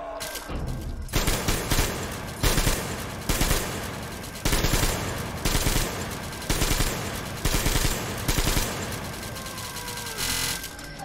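Sustained machine gun fire from a video game in Metro Exodus, loud and close, coming in rapid repeated bursts with brief pauses between them and no talking over it.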